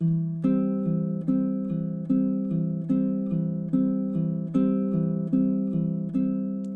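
Fingerpicked baritone ukulele notes from a beginner two-chord song repeat in a regular pulse, each pluck ringing into the next, heard up close and unaccompanied.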